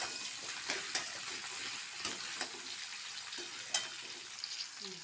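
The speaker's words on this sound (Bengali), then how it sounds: "মা একটা মূলোকে অমনি লম্বা লম্বা করে কেটেছে, দিয়ে ওর মধ্যে দিয়ে দিল। দিয়ে এটাও একটু ভাজছে।" Strips of radish fry in a pan with oil, a steady soft sizzle with a few small crackles and clinks, faint and continuous with no talking.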